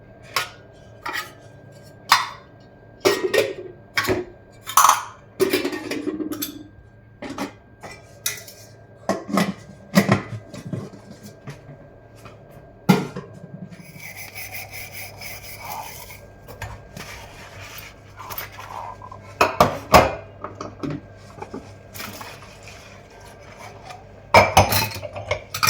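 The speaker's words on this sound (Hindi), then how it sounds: "तो चलिए मैं अपना बर्तन कर लेती हूँ।" Dishes, pots and utensils being washed by hand, with irregular clanks, clinks and scraping of metal and crockery, sometimes in quick bursts and sometimes spaced out, close and fairly loud with no talk.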